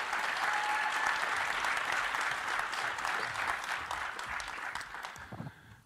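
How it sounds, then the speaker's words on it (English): Audience applause fills a conference hall, a steady sustained clapping from a crowd that holds for several seconds and then gradually tapers off, with no voices over it. "Let's give everybody, Whitney, a round of applause"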